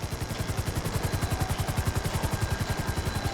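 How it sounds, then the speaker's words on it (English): A helicopter hovering in GTA 5, its rotor beating in a fast, even pulse under a loud steady engine roar, close and constant with no talk. "I need you to hold the chopper above it while I take a look"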